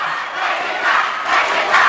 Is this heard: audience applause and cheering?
yes